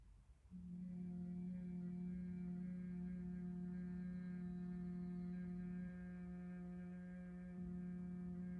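A person hums on a long exhale during a pranayama breathing exercise, one steady low tone that starts after a brief breath and holds for several seconds with a slight dip near the end.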